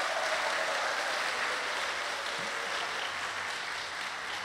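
An audience applauds at a 50th-anniversary thanksgiving concert in St. Joseph the Worker Catholic Church, Chiayi, producing an even, unbroken wash of clapping at moderate loudness.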